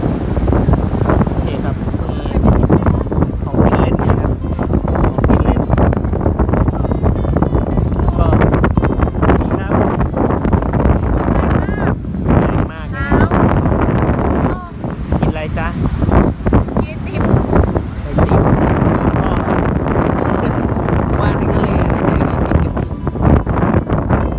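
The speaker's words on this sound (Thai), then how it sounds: "ลมแรงมากนะฮะ" Strong seaside wind during a storm at Laem Mae Phim, a constant loud roar buffeting the microphone throughout, with people talking over it.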